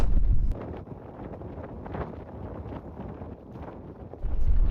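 Wind blows across the open top of Fair Snape Fell in the Forest of Bowland, buffeting the microphone in heavy gusts at the start and end with a lighter rushing in between.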